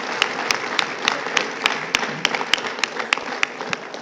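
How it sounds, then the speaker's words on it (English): A crowd at Rick Santorum's South Carolina concession speech applauds, with sharp individual claps cracking out close by over a softer bed of many hands and crowd murmur. "And to Newt Gingrich, let's give him a big round of applause for standing in there fighting."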